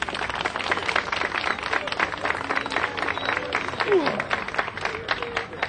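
Crowd applause at a ceremony in Ellwood City honoring police canines and their handlers, a dense, steady patter of many hands clapping throughout with some voices mixed in.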